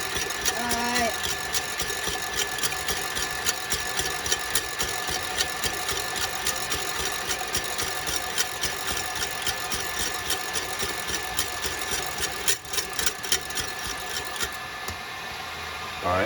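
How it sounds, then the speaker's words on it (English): Electric mixer whirring steadily on high speed as it whips egg whites toward froth for a baked Alaska, a continuous motor drone running nearly unbroken throughout, close and fairly loud. "That's how you want to whip it on high speed until the egg whites become frothy"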